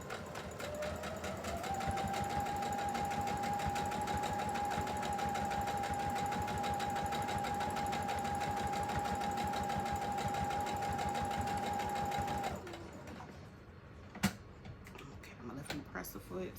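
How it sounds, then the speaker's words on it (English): Sewing machine stitching a pillow close to the edge, a steady fast mechanical whir and ticking running nonstop for about twelve seconds, then stopping, followed by a few faint clicks and handling noises. "I'm gonna sew real close to the edge as much as I can."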